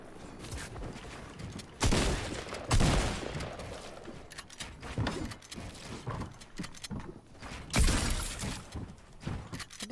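Pump shotgun fire in a battle royale video game, a few sharp loud blasts spaced irregularly among quieter clatter and smaller pops.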